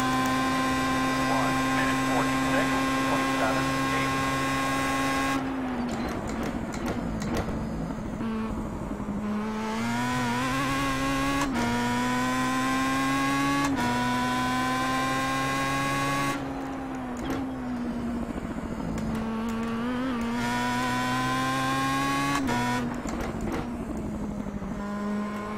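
Pro Mazda race cars at Virginia International Raceway, a loud sustained engine whine from the car with the microphone, shifting pitch with gear changes and throttle lifts, occasional sharp clicks, and no speech.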